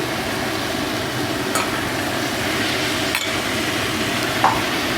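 A paste of green chili and ginger sizzles in a hot pan, a steady even hiss with a couple of soft clinks from a spoon or utensil.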